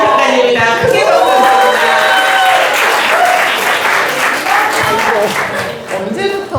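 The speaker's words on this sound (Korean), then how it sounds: "크게 박수" An art fair talk show audience claps loudly and continuously, with a few cheers and voices rising over the dense applause, which fades slightly near the end.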